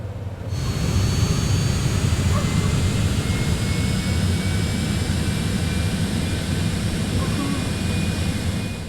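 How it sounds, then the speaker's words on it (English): Cessna Citation X business jet engines spool up in a flight simulator, a steady loud roar with a rising high whine that holds evenly throughout. "That'll put the throttle into throttle idle and introduce fuel into the igniters and fire up the engines."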